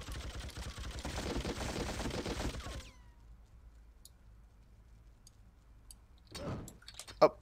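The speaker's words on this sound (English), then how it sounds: "Oh, now he's shooting." An enemy opens fire in the shooter game Freedom Fighters, a loud, dense burst of rapid gunfire lasting a few seconds and then cutting off, followed by near silence and a couple of sharp clicks and bangs.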